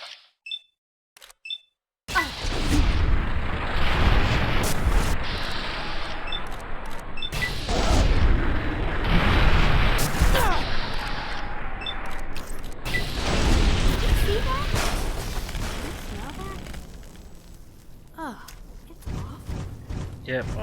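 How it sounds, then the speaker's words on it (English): Cannon fire in Fallout: New Vegas, a sudden heavy booming blast after brief quiet, followed by a long rumbling roar of explosions and impacts with scattered game sound effects, loud and dense. "Cannon."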